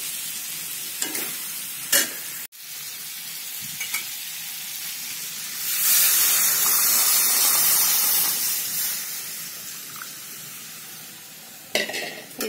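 Curry in a wok sizzles and hisses steadily after water is poured in, with a louder steamy burst in the middle and a few sharp clinks of stirring against the pan.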